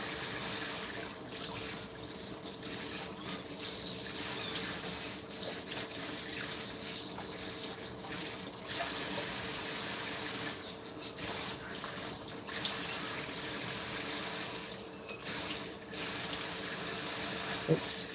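Water runs steadily from a sink tap set to spray, a continuous broadband hiss that stays fairly even throughout, with faint movement and brief murmurs underneath.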